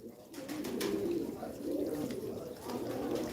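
A black pigeon coos in low, rolling repeated calls, fairly faint, with a few soft clicks and background rustle.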